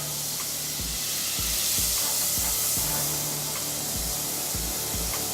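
Mushrooms frying in butter in a pan give a steady, moderate sizzle and hiss, with soft low thumps and stirring knocks recurring throughout.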